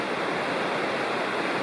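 A creek flows beside a wilderness campsite in the Bald River Gorge, a steady broadband rush of water with no pauses, fairly close and without voices.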